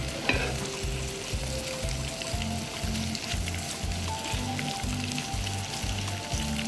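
Chopped onions stir-fry in a hot pan for mumps, loud steady sizzling with a regular scraping rhythm of the spatula stirring throughout, close up and with no voices.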